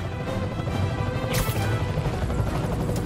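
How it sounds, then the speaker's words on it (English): A helicopter carrying a wrecking ball in a Spider-Man video game roars in a dense, loud mix, with a sharp crashing impact near the middle over the constant rotor noise. "I'm getting reports of a helicopter with a wrecking ball?"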